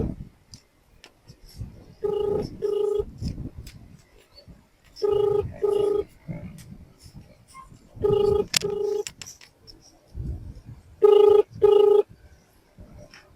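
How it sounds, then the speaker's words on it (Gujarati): Outgoing call ringback tone on a mobile phone, four paired bursts of ringing spaced about three seconds apart, heard clearly over quiet background with faint voices between rings. "ફોન લાગ્યો છે, સાંભળો."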